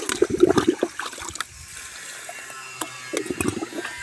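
Water pours and splashes down into a bucket at a farm house, a close, uneven stream of sloshing and dribbling with irregular splashes, briefly settling before spattering again.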